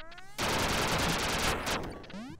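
Video game gunfire erupts as a loud, dense burst of rapid shots lasting nearly two seconds, with electronic game tones before and after it.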